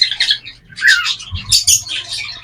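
A hen songbird kept in an aviary calls from outside the cage in short, close chirps and squawky notes that come in several quick bursts; no talking is heard.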